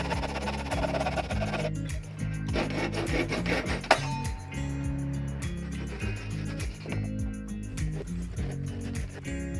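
A handsaw cutting through the ends of wooden deck boards, with rhythmic rasping back-and-forth strokes that continue steadily and close up, with no talking.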